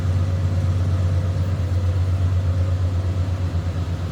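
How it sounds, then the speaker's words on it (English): A 1978 Ford F-250 crew cab with a 460 V8 idles steadily, a smooth, even low rumble that stays constant and close throughout, with no voices. "It's pretty darn quiet for a 460 that's underneath the hood."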